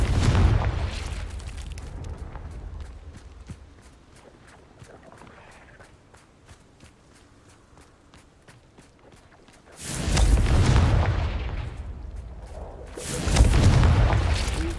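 A booming Confringo blasting spell explodes in the video game Hogwarts Legacy, with two loud, rumbling bursts several seconds apart after a quieter stretch of ticking.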